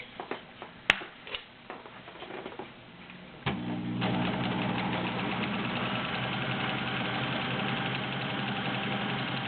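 A vintage Kenmore model 1803 sewing machine set up with a stretch cam: a few scattered clicks and knocks at first, then the motor starts and settles into a steady, fast mechanical whir with rhythmic needle clatter, close and loud, with no talk.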